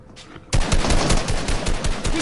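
Rapid automatic gunfire in a Fortnite-style shooter, a dense, loud burst of repeated shots starting abruptly after a quiet moment and continuing without pause.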